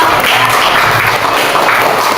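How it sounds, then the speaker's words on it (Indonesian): A classroom of students applauds a classmate, with dense, steady clapping filling the short stretch at an even loudness from start to finish. "tepuk tangan buat Mas Radit dong."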